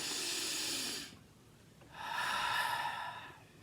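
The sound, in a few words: deep breathing, inhaling and exhaling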